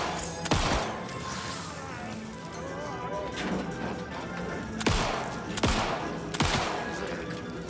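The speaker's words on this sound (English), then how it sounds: "I just wanted to shoot apart parts of the teacup to still get it." Gunshots fired at a teacup in Alan Wake 2 at a creepy fairground: four sharp, loud reports spaced a second or so apart over a murky ambient backdrop with some talk.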